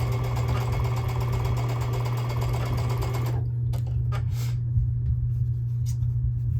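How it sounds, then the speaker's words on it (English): A sewing machine stitches slowly across a bulky quilt seam on a tiny-pieced mini quilt block, its steady motor hum running close and continuous for about three seconds before easing into a quieter, lower drone. "I'm gonna sew really slow to make sure I got right over that"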